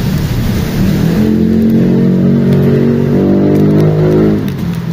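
Honda Wave 100cc motorcycle engine with a noisy timing chain, idling and then revving steadily up close, a dense continuous mechanical drone with a faint rattle.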